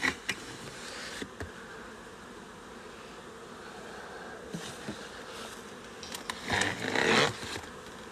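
Honeybees buzz steadily around hives during a varroa mite treatment outdoors, a continuous near swarm drone with louder swells as individual bees pass close toward the end.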